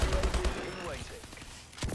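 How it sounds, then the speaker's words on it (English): Rapid gunfire bursts in the video game Call of Duty: Advanced Warfare, a quick clatter of shots at the start followed by a thud and another shot at the end, fairly faint overall. "I'm shooting at my own teammates."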